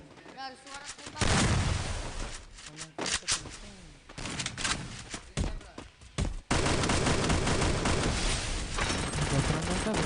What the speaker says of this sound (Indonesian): terdengar suara tembakan yang diberikan oleh SW